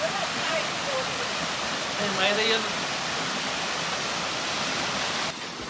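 A waterfall rushes in a steady, loud broadband roar, with a voice briefly heard over the cascade.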